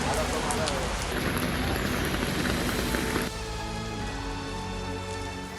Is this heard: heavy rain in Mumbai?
yes